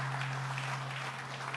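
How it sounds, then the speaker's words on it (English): A festival crowd gathered outdoors at Pier 76 in New York claps together in steady, dense applause over a constant electrical hum from the sound system. "give yourselves a round of applause for being part of this"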